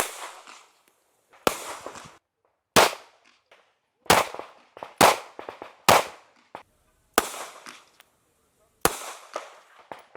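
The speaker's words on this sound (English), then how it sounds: "Go ahead and fire off a couple shots" About eight sharp gunshots from a firearm during a shooting drill, fired singly at irregular intervals with short pauses between, each crack loud and close with a brief echoing tail.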